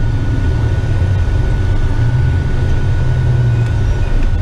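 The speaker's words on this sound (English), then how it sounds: "Let's test these exhaust brakes to the max." Western Star dump truck on a railway job, its exhaust brakes working as a loud, steady low-pitched diesel roar and rumble that continues without a break and carries no talk.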